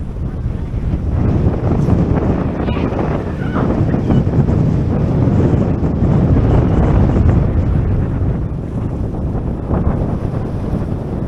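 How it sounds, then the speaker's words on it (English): Strong wind buffets the microphone in a loud, continuous roar at a cruise port in Falmouth, Jamaica, beside the Royal Caribbean ship Wonder of the Seas, with gusts swelling and easing throughout. "It's very windy out here."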